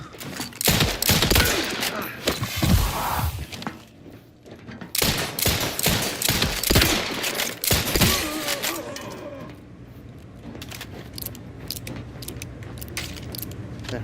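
Rapid bursts of gunfire in The Outer Worlds 2, loud clustered shots and thuds in several volleys, then fading to a quieter rumble.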